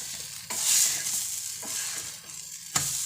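A wheat-flour pooda with potato and onion fries in a pan, sizzling steadily at moderate volume while a spatula scrapes and presses it in a few soft strokes.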